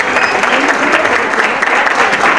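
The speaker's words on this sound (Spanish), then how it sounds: "que se escuche, por favor, fuerte el aplauso para los novios" Wedding guests applauding the newlyweds as they are presented at the reception, a loud, dense, sustained wash of clapping from a large crowd filling the room without a break.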